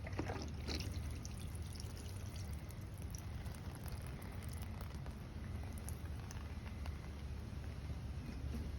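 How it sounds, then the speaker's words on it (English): Water pours and trickles steadily onto a microgreen seed tray, a continuous soft splashing hiss with a low rumble, close and unbroken. "This is gonna hold the seeds in place while I give it a really good watering."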